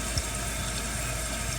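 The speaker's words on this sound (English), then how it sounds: "See, our water's going in the tube, which means our bowl is filling up." Water refills a toilet tank and bowl during a flapper and fill valve replacement, a steady close rushing hiss of running water that holds evenly throughout without pause.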